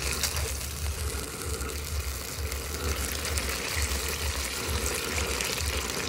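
Water poured into a cooking pot for a simple sardines and miswa soup, about two cups, a steady gushing fill over a low rumbling background, running the whole time with no talk.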